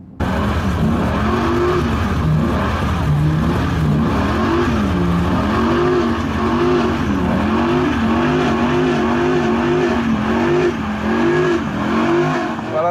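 A V10 pickup truck with an engine over eight litres, rear-wheel drive, naturally aspirated and paired with a manual gearbox, revs loudly and continuously, its pitch rising and falling in repeated surges close by.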